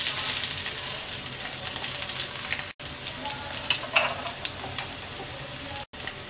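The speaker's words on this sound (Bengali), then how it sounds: "তেলটা গরম হয়ে গেছে, 3টা শুকনো মরিচ ছিঁড়ে দিয়ে দিচ্ছি। দিয়ে দিচ্ছি একটা তেজপাতা, দিয়ে দিচ্ছি 3 কোয়া রসুন কুচি" Torn dried chilies, a bay leaf and chopped garlic sizzling in hot oil, a dense, steady crackle close by with faint clicks of stirring and two brief breaks.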